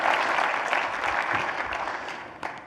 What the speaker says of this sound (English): Can we give a big round of applause to our sponsors?